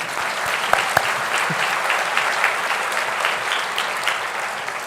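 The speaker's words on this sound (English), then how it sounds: "It's okay to clap." Graduation ceremony audience applauding, a dense continuous clatter of many hands clapping at once, steady and fairly loud throughout with a few sharper claps and cheers standing out.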